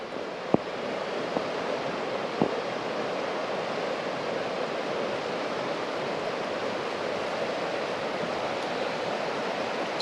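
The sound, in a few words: rushing river rapids of the Sabattus River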